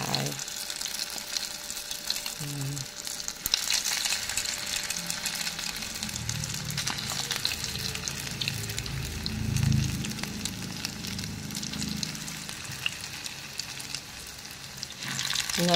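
Eggplant frying in a pan, a continuous sizzle with stirring scrapes and some watery bubbling, close by, with faint background voices.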